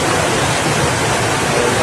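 Strong floodwater current rushing past a flooded house during Super Typhoon Uwan in Aurora, a loud, steady broadband roar that fills the whole moment with no break.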